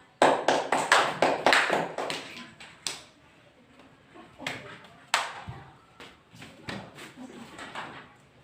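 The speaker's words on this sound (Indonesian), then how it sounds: "Tepuk tangan buat kita semua." A classroom group claps together in a lesson, uneven bursts of hand claps coming close and fairly loud, then thinning to scattered taps and a few later claps.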